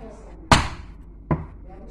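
Two sharp, close knife chops hit a cutting board as kubba is cut into cubes. The blows land about a second apart, each a distinct thud in a quiet kitchen.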